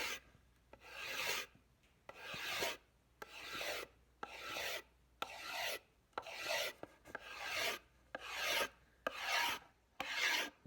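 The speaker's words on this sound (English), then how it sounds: "When you're scraping these, you'll find that one way will go better than the other." Hand-scraping a rived wooden axe handle, a series of about a dozen rasping strokes in a steady back-and-forth rhythm with short pauses between, close and clear with no talking.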